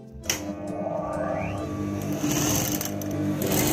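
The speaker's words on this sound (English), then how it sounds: "you put your fabric underneath the presser foot then you start stitching" An industrial sewing machine fitted with a gathering foot stitches fabric, its motor giving a steady, continuous whirring hum that runs close and even throughout.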